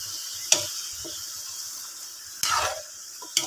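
Vegetable pakbet is stirred in a large wok over a steady sizzle, with a few separate scraping strokes of the utensil against the pan.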